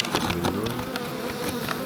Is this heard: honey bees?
yes